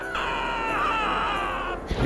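A character in a Russian bus simulator video game screams while falling, a single sustained high wail lasting over a second and a half, loud and alone before cutting off.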